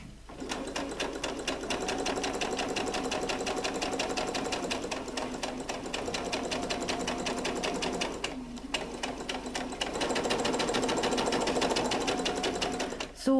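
A sewing machine stitches a fabric seam for a dragon-in-egg sewing project, running steadily and loudly close by with a rapid mechanical clatter, briefly pausing and then resuming at a slightly higher pitch.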